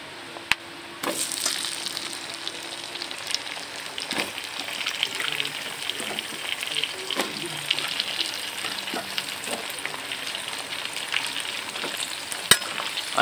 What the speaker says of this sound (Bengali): আলুটা দিয়ে একটু নাড়াচাড়া করে নেবো